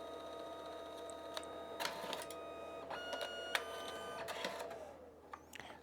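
A Canon Selphy CP1500 photo printer runs its printing cycle, giving a steady mechanical whir with sharp clicks and ticks scattered through it. The sound is close and quiet and plays alone.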